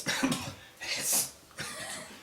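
Three short, rough coughs in quick succession, fairly close and moderately loud, with brief pauses between them.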